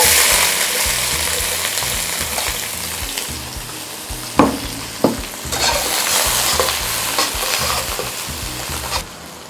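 Onion hitting hot oil in a pan for spicy fried rice, a steady loud sizzle and crackle of frying with a couple of sharp utensil knocks midway and no voices.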